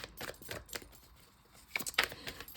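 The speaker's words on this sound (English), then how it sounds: "as I'm shuffling these cards" Tarot cards being shuffled close up in a quiet room, heard as faint papery riffles and clicking flutters in a few short bursts, with a pause in the middle before a brisker flurry.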